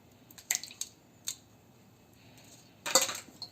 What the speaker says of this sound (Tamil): இதை போட்டு நல்லா மிக்ஸ் பண்ணிக்கிறோம்.